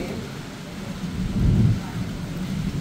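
Heavy rain pounding down outside a house, a broad steady roar with a deep rumbling surge midway, close and fairly loud with no clear talk.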